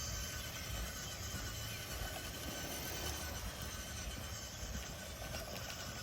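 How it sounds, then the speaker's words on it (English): A Danchee Ridgerunner 1/10 scale RC crawler runs at full throttle, giving a steady, continuous electric motor whine with a faint squeal that holds level and never lets up. "See what kind of speed we can get out of this thing while we head over to the trail. There's full throttle."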